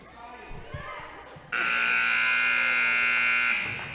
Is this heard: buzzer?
yes